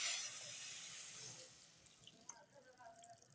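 Water is poured into a pot of Cox's Bazar-style dried ribbonfish curry with chili, ginger-garlic paste and onion: a close gushing pour that tapers off within two seconds into a few light drips.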